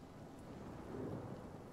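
A low, rumbling thunder effect rolls out with rain-like hiss from a lightning storm scroll in the fantasy game Divinity: Original Sin, faint and continuous with no voices.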